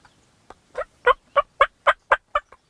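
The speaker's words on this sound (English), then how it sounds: "we got some birds on the ground behind us" Wild turkeys gobbling on the ground during a spring turkey hunt in Pennsylvania, a rapid run of about eight loud, clear, rattling gobble notes in quick rhythm, alone and fairly close.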